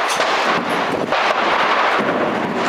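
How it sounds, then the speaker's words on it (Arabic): Heavy shelling from warplane bombardment on residential neighborhoods of besieged Homs: a continuous loud, rumbling roar of distant blasts and booms overlapping without pause. "قصف عنيف متواصل على أحياء القصور وجرس الشياح"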